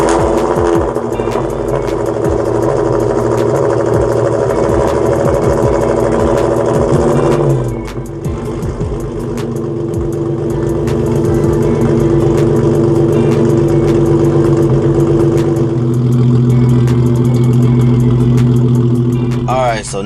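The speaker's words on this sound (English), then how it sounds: "I'm about to go ahead and get a cold start up on this car" A Hyundai Genesis Coupe with a new replacement engine runs loud and close, with a steady rumbling idle and rising revs. The pitch shifts and drops partway through, then holds again until a final flick of the throttle.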